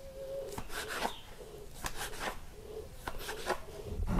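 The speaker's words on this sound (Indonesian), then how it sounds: "Nah, lalu dipotong." A knife cuts cimol tapioca dough into pieces on a board, giving soft close scraping and chopping strokes in an irregular rhythm over a faint background hum, with no talking.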